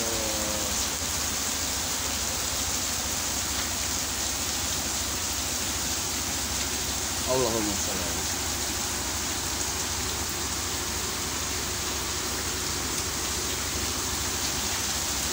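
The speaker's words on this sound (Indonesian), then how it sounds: "hujan deras" Heavy rain pours steadily in Patia, a dense continuous hiss on roofs and ground that stays loud throughout, with a brief murmured voice near the middle.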